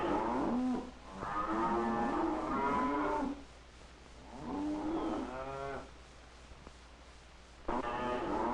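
Cattle in a northeast Oregon cow town give several long, loud moos in separate bursts with short gaps between them, heard alone over a low steady background.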